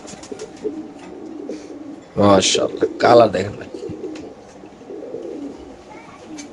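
A male BRPFC racer pigeon coos in two loud, throaty bursts close to the mic, set against a quieter background of other birds while someone speaks.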